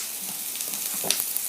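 Carrots hitting a hot pan and stir-frying for Cantonese chicken, a continuous close sizzle with a few sharp crackles and stirring scrapes, no voices.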